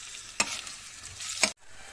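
Onion, garlic and pepper sauté in a pan with a close, constant sizzle and two sharp stirring scrapes before it cuts off abruptly.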